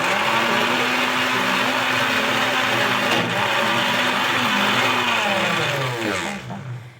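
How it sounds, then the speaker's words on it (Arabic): A food processor grinds a sardine kofta mixture: a loud, steady motor whir with a churning, fluctuating pitch runs throughout, then winds down at the end. No voices. "كنطحنوا كفته"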